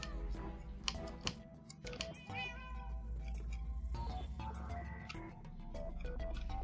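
A radioactive cat in Minecraft meowing several times in short, separated calls over a low background hum, with scattered faint clicks between the meows.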